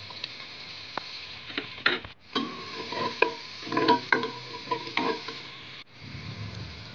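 A spoon stirring onions in a pan while making Filipino chicken curry. Soft sizzling runs under irregular scraping and tapping against the pan, close and unvoiced, with a short pause partway through.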